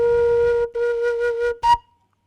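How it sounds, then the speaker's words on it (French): Homemade whistle built from plastic pipe with a wooden piece gives a steady, clear pitched tone in two long blasts, then a short, sharper third blast, loud and close with no talking. "là on a un sifflet"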